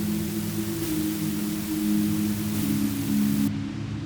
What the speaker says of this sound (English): I will actually pitch the shimmer down instead of up, which means it's going to create like a reverb that is pitched down.